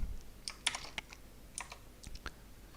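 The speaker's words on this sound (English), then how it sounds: "Now that we have monospace here, I can type in good morning." Quiet typing on a computer keyboard, a scattered run of light, close key clicks in small bursts with short gaps, no voices.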